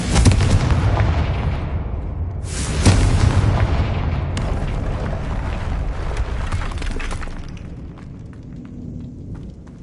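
A Confringo fire spell bursts in the game Hogwarts Legacy, loud booming blasts at the start and around two and a half seconds, each trailing into a rumbling roar that slowly fades, with no talking.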